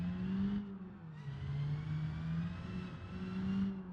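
Naturally aspirated car engine driving on a touge mountain road in BeamNG Drive, a steady droning hum whose pitch dips and rises slightly as the throttle changes, with no voices.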